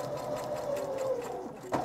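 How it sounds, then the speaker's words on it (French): Sewing machine stitching the neck seam of a lining and sequin fabric garment, a steady close whirring hum running for the whole moment, ending with a slight clack. "On va juste plier en deux et venir coudre ici au niveau du cou."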